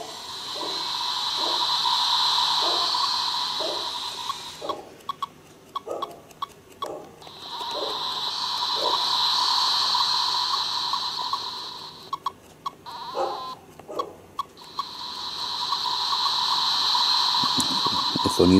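A handheld retro game console plays a synthesized sea wave sound effect in long, swelling hissy surges that rise and fade, broken by short electronic clicks and beeps between waves.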